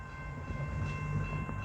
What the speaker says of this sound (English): even though the train is not even stationary at the station yet